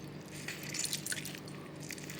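Lemons are squeezed by hand for lemon juice, giving soft, wet squishing and faint crunching pulses over a steady background, with no voice.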